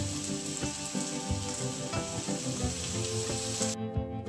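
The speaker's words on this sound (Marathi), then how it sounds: "आपण बारीक कट केलेला कांदा याच्यामध्ये परतून घ्यायचा" Finely chopped onion sizzles in hot oil in a pan, a dense continuous crackle and hiss with occasional stirring knocks, close and steady throughout.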